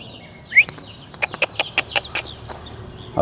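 A young rooster chick offered for sale clucks in a quick run of short, sharp calls, close and fairly loud, preceded by a single higher squawk, with no talk.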